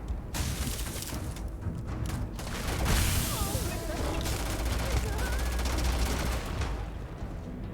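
An explosion-heavy firefight in the video game Starfield, with loud bursts, rapid gunfire and booms close by, sustained and dense throughout.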